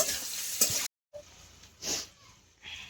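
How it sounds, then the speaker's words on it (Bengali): Potatoes and shrimp, seasoned with salt and turmeric, frying in a pan: a bright sizzle with stirring scrapes, a brief total dropout, then quieter frying with further stir strokes. "দিয়ে আলু আর চিংড়ি মাছ একটু ভেজে নেব।"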